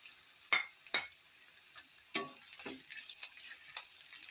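Garlic and ginger sautéing for beef achar, with a few sharp stirring scrapes and bursts of sizzle over a low, steady frying hiss, fairly quiet and close.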